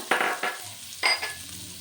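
Green chillies hit hot oil for a semolina and potato breakfast, giving short bursts of sizzling and crackle with a spoon scraping and stirring in the pan, close by with no talk.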